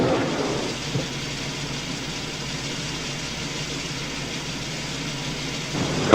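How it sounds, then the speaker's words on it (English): A car engine idles in a steady, low rumble that runs on evenly and continuously in the background. "keep the engine running"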